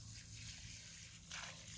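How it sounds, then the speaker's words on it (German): Water is poured onto potted plants in a garden in February, a soft, faint trickle and splash continuing throughout, briefly swelling near the end. "Jetzt bekommen die alle noch einen schönen Schuss Wasser."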